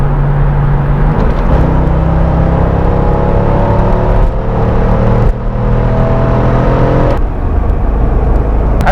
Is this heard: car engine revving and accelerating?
yes